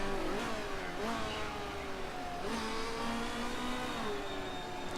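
A racing car engine in the Motorsport Manager game revs up and down repeatedly, its pitch climbing and dropping in several steady sweeps, moderately loud and alone.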